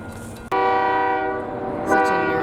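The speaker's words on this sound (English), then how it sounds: "There's a train coming." Train horn sounding near a Central Michigan University disc golf course, a sudden loud sustained blast with steady harmonic tones that swells again toward the end as the train passes, with no talk over it.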